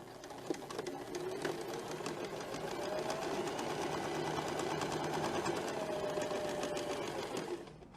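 A sewing machine stitches fabric along the edge of a slipper, a fast, even mechanical whir with rapid ticking that runs continuously for several seconds before stopping, heard close but at a soft level.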